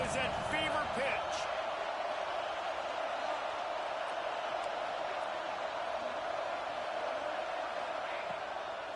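Football stadium crowd on a third-down play in the red zone, a loud continuous roar of cheering that holds steady for the whole stretch, with a few sharp thumps early on.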